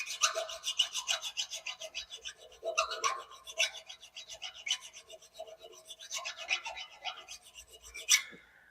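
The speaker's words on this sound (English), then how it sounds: "all you need to do to correct these issues is just a file, and I'm just going to come along here and just cut a slight chamfer on these edges" A hand file chamfers the sharp edge of a CNC mill's Y-axis rail, giving a series of close, rasping strokes in uneven bursts that rise and fall in loudness, with no voices.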